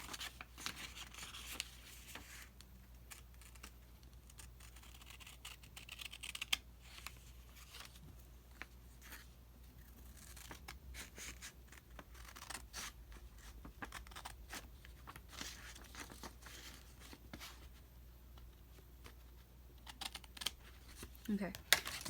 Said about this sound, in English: after that we're gonna cut it at those folded lines